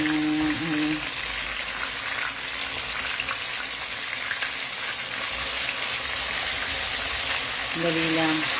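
Banana turon frying in hot oil, a steady crackling sizzle with splatter running throughout, close and fairly loud, with brief tonal kitchen sounds near the start and end.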